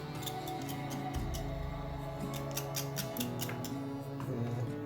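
Leeks are cut in quick snipping, ticking bursts, crisp and close, repeating irregularly over a steady background hum.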